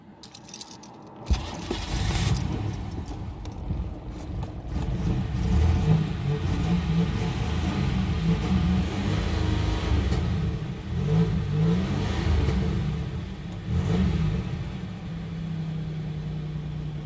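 A 1988 Oldsmobile 98 Regency Brougham with a faulty starter: keys jangle, then the engine cranks and catches, settling into a steady, close rumbling idle that carries on alone.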